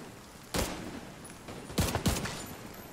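Three loud, close gunshots from a gun in The Division 2 crack out in the game, one single report followed by a quick pair, with quiet background ambience between them.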